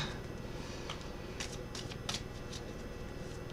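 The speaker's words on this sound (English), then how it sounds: "Just get the cards shuffled." Tarot cards being shuffled at a psychic medium's live reading, a steady papery riffling with several sharper flicks and snaps, close up and alone without talk.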